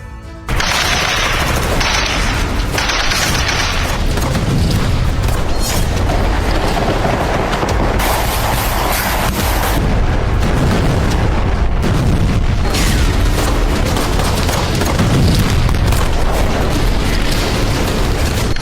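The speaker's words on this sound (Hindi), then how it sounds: "हवा में ड्रोन और नीचे ताबड़तोड़ गोलियां चल रही हैं।" Loud, sustained bursts of rapid gunfire with heavy booms in combat, with drones overhead, dense and continuous for the whole stretch, close and harsh.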